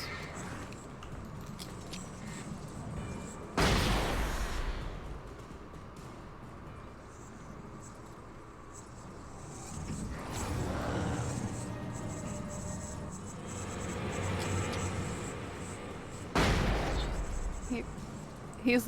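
Frag grenade blasts in the horror video game Alan Wake, three sudden loud booms with rumbling decay spread across a tense in-game soundscape, no voice over them.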